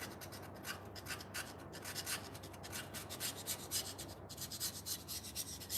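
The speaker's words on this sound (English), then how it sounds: "You don't want to push too hard with these carbide scrapers because they will dig into the aluminum a little bit." A carbide scraper rasping old gasket material off an aluminum transmission surface on a 2010 Toyota Tacoma, quiet close scratchy strokes repeating in a quick irregular rhythm.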